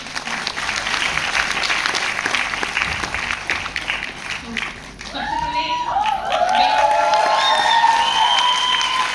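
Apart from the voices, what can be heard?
audience clapping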